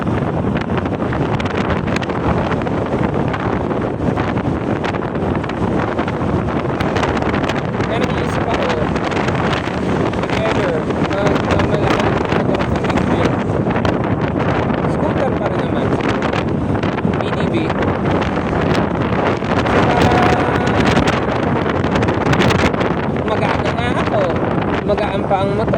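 Wind roars and buffets steadily against the microphone while riding a Honda motorbike, a constant loud rushing that lasts the whole stretch.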